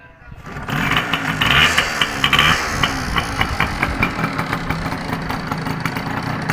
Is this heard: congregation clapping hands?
no